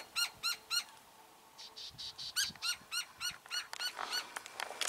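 Outdoors on a desert hiking trail, a bird gives a series of short, sharp squeaky calls in rhythmic bursts, fairly close and alone against quiet background.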